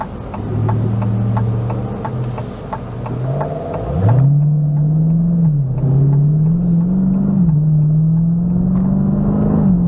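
A Dodge Challenger T/A 392 V8 drives through a series of turns, its engine droning steadily with rising and falling pitch as the throttle shifts, ticking clicks over the first few seconds.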